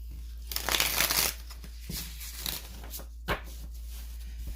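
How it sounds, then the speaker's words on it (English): Tarot cards from The Light Seers Tarot deck rustle and riffle in bursts near the microphone, a loud flurry early on followed by softer, scattered flicks over a low hum. "For me, I just like to hear the shuffle."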